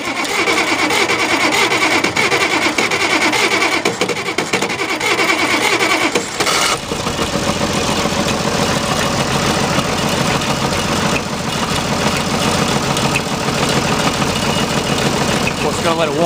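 A diesel engine, freshly filled with oil, cranks and starts, then settles into a steady, loud idle as it warms up, with a continuous clattering rumble throughout.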